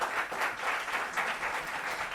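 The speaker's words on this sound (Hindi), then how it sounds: "प्लीज जोरदार तालियों के साथ।" An audience applauds a speaker being welcomed onto a stage, steady dense clapping that stays loud and even throughout with no voices over it.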